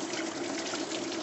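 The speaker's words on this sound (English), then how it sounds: "Let's see how much leaks out of here." Coolant drains out of a Jeep JK engine during a water pump replacement, making a steady, close, continuous pouring trickle of liquid with no break.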